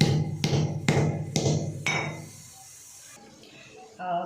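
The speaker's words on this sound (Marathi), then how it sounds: "फोडणीसाठी आपण लसूण खोबरे ठेचून घेणार आहोत" Garlic and coconut are pounded for a sambar tempering: five sharp, evenly spaced strikes ring out close by, then the sound drops to a quieter stretch with a few light clinks near the end.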